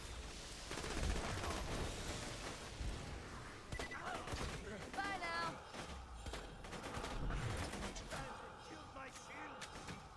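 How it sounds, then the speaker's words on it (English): Rapid bursts of fire-weapon gunfire from the Borderlands video game, with dense crackling shots and impacts in steady volleys, mixed with game effects and a voice talking over the action. "we pull out our fire weapon and we land a crit"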